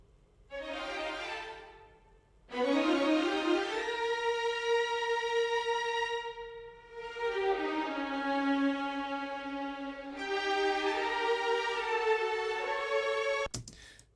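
A game music track with sampled strings and no live violins plays sustained, gliding melodic phrases in several sections, ending with a short sharp click.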